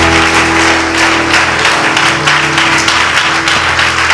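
Church congregation applauding the Lord during a French-language worship service. Steady, dense clapping from many hands fills the space for a few seconds, with no spoken words.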